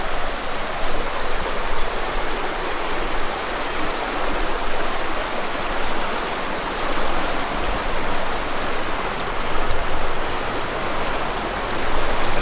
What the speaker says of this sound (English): there's the Hockwa River that runs through Sheepyard Flat